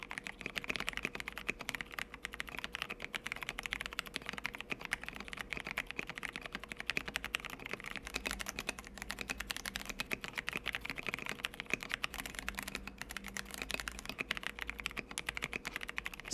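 Rapid, steady typing on a keyboard fitted with Cherry Brown tactile switches, lubed with Krytox 205 Grade 0 and filmed, producing close, dense clacking keystrokes with no talk.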